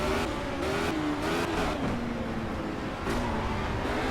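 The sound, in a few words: race car engine in video game Project Cars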